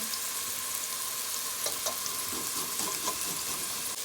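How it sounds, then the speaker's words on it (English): Grated garlic and purple onions sizzling in a pot while being stirred, a steady close hiss of frying with occasional scraping and clinks of the utensil. "I'm gonna mix the garlic and the onion."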